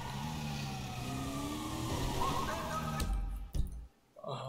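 A fire engine siren in a video game wails steadily with a rising and falling tone over a droning engine, then cuts off abruptly partway through, leaving a thump and quieter game sounds.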